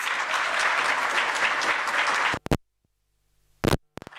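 Audience applause at the UNISA Innovation Festival 2024, a dense, loud burst of clapping that lasts about two seconds, cuts off abruptly and then returns in a few short scattered bursts.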